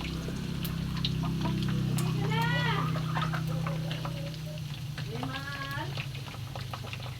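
Oil sizzles and crackles steadily as pork for lechon kawali deep-fries, with a person talking over the cooking noise.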